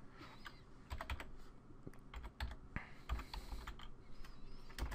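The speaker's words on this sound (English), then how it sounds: "And then you need to type in safeboot network." Quiet, close clatter of a computer keyboard as a command is typed into a Windows 8 prompt, irregular keystrokes in quick bursts with no talking.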